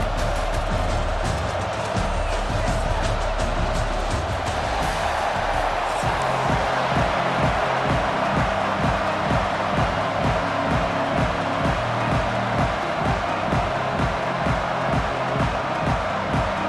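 Stadium crowd noise swells and roars continuously across the clip, a broad steady cheer in EA Sports College Football 26, with a rhythmic pounding beat joining in partway through.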